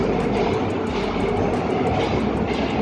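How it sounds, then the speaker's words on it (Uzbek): A metro train rolls along an elevated track, a steady continuous rumble with faint rhythmic clatter that stays loud and close throughout, with no voices. "Tepa mana metro."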